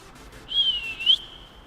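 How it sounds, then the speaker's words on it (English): A single sustained whistled note from a person, fairly clear and close, holding steady for about half a second before a brief upward slide. "Man of many talents, he can whistle."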